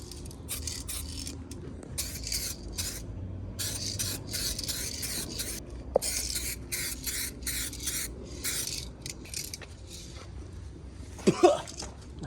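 Repeated short hissing sprays of waterless car wash on a Subaru in quick bursts, with rubbing and wiping sounds between them and a sharp scrape near the end.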